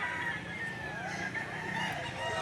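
Chickens at a busy poultry market in Lipa City, Batangas cluck and crow in a dense, continuous chorus, with several birds overlapping at moderate distance.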